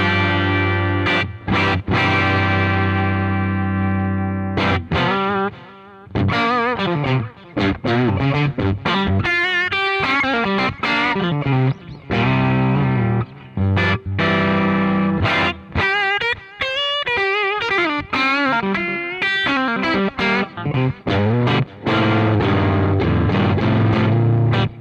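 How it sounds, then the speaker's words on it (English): Electric guitar runs through delay into a cranked, dirty Boss Waza Craft tube amp, with distorted chords and lead lines trailed by clean, distinct repeats, loud and continuous with brief pauses. "You know when you run delay into a very dirty amp, it gets too muddy?"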